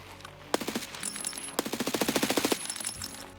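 Automatic gunfire in Escape from Tarkov during a solo fight against a squad: a single shot then rapid bursts of closely spaced rounds, loud and near, with no talk.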